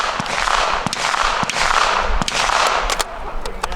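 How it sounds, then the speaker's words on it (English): A Browning semi-automatic rifle fires at an outdoor range, several sharp shots cracking at irregular intervals over a steady background hiss. "This is the Browning's semi-automatic rifle."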